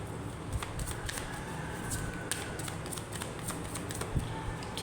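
Tarot cards being shuffled by hand up close, a steady soft riffling patter with quick flicks and taps over a light background hiss.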